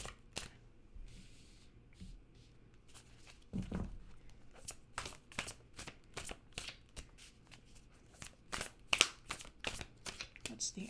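Tarot cards being shuffled, a long run of soft, quick riffling and flicking bursts, close and fairly quiet, with a louder shuffle in the middle and a voice speaking in places.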